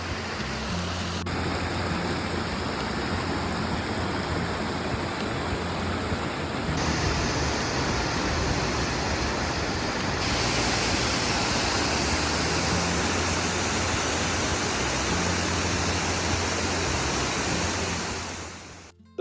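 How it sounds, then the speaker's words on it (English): McCloud River Falls near Mt Shasta, California pours into a deep green pool, a steady full-bodied roar of falling water heard close and continuous throughout. "the waters come gushing down into the deep green pool beneath"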